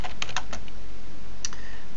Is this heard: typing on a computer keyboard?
yes